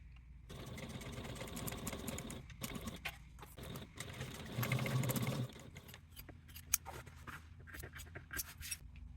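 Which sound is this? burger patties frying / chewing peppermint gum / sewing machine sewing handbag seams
sewing machine sewing handbag seams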